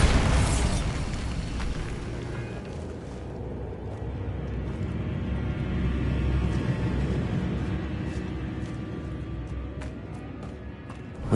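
Bombarda explosion spell cast in the Hogwarts Legacy video game on PS5: a loud, sustained booming blast that opens the clip, followed by a rumbling, debris-filled tail.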